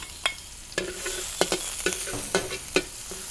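Garlic frying in a wok for rad na sauce, a lively sizzle with quick, repeated scrapes and clacks of a spatula against the pan.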